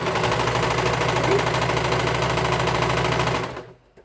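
A Janome 4400 sewing machine winds a bobbin with a fast, steady mechanical whir that runs loud and continuous for about three and a half seconds, then winds down and stops.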